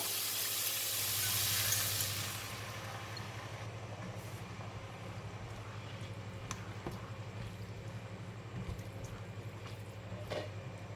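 A loud hiss of sauce hitting a hot frying pan of egg tofu and minced pork fades into steady, softer sizzling with occasional clinks and scrapes of a utensil.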